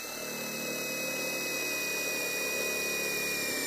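A power driver runs steadily while fastening beam attachment screws during installation of perimeter box beams, a continuous motor whine holding close and loud for the whole stretch with no talk.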